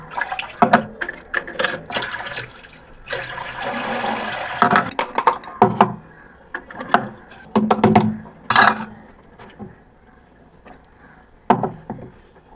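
Soaked fennel, coriander and cumin seeds are washed by hand in water, with irregular sloshing, splashes and pouring in uneven bursts and short pauses, heard close without talk.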